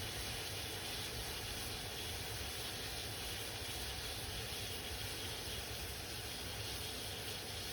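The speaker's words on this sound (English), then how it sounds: "So we'll watch this boil." Salt water boils in a dark-coated pan with a steady, even hiss and fine bubbling that holds without change throughout, quiet and constant, with no voices.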